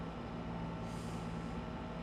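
Truck of beans pulling in within Farming Simulator 25, a low steady engine idle with a short airy hiss of air brakes near the middle, fairly quiet and without speech.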